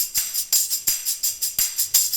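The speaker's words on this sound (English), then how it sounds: "this plastic tambourine is actually made for a drum kit" Plastic drum-kit tambourines shaken in a steady rhythm, each bright jingling burst landing on a beat with a sharp attack, about eight hits, loud and alone.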